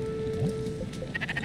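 In the Spiritfarer video game, a sheep gives a short, clear bleat, followed by a few light chiming game sounds within a second and a half.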